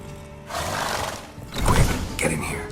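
Horses whinny and snort in a stable scene in the video game The Witcher 3: Wild Hunt, a fairly loud, breathy neigh rising midway through over a steady background ambience, with no speech.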